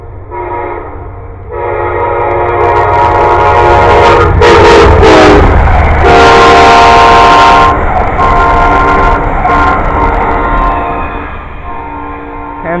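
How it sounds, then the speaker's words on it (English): A train rolls past close by, a loud steady rumble of wagons with a long horn blast sounding over it, staying strong for most of the pass before easing off at the end. "here comes another train"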